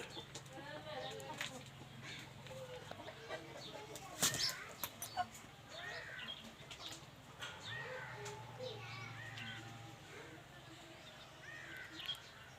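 Roosters and hens cluck intermittently and flap their wings in a sharp burst partway through, with people talking quietly in the background.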